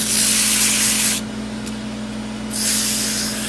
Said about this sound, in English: A little bit of sanding on here.